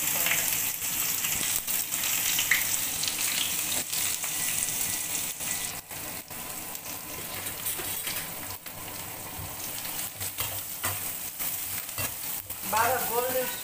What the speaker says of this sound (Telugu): ఆనియన్ బాగా వాడాలి, గోల్డ్ కలర్ వచ్చేదాకా వాడాలి